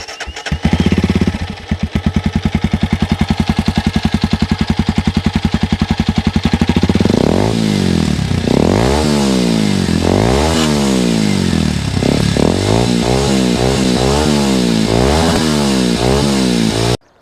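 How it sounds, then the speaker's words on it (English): A Kawasaki KLX230 dirt bike with a Norifumi full exhaust, upgraded ECU, big intake funnel and pair valve delete idles with a loud, rapid popping thump, then is revved hard in repeated rising and falling bursts, close and alone. "Let me show you how it actually sounds with the norifumi full-blown exhaust, the upgraded ECU, and the big intake air funnel"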